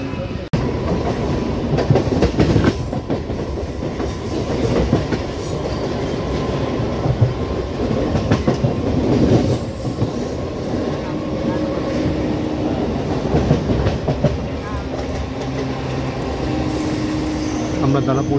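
A Patna local train on the Indian Railways East Central line rolls into Danapur station with a loud, continuous wheel rumble and rhythmic clatter over the tracks, heard from on board.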